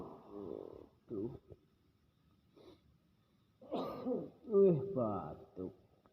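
A myna bird imitates a cough, producing several short raspy coughing bursts with pauses between, close and fairly loud in a quiet room.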